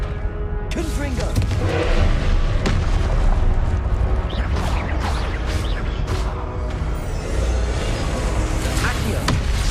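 A Confringo fire spell blasts in a video game duel, making loud, dense booming bursts of explosive noise that fill the clip, with a voice talking over the action.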